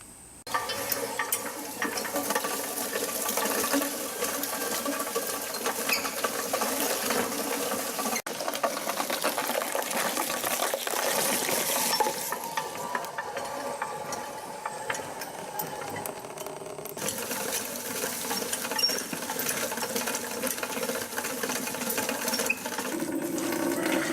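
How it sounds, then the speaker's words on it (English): Grapes being ground in a heavy-duty solid maple grape crusher for winemaking, a continuous close grinding and rattling churn lasting throughout with a few brief pauses and shifts in pitch. "show you how I grind these up and get them into the basket"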